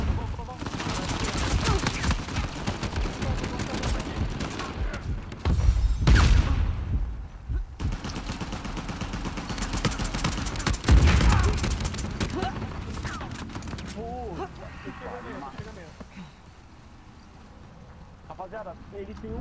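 Gunfire rattles through a video game shootout in dense, rapid bursts with loud peaks, thinning out toward the end, while excited players shout over it.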